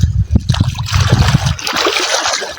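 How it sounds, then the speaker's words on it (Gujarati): Close, steady rush of the Sipu river's flowing water, splashing and trickling continuously at fair loudness with no voices. "સુંદર મજાનું મસ્ત પાણી ચાલી રહ્યું છે મિત્રો"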